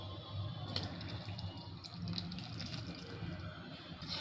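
Cornflour mixed in water being poured into a pot of simmering carrot halwa, a steady close liquid pour with light splashing that runs throughout.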